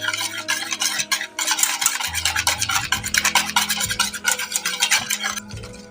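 A spoon stirs chocolate syrup mixture with added milk in a pan, giving rapid rhythmic scraping strokes, close and loud, with no talking.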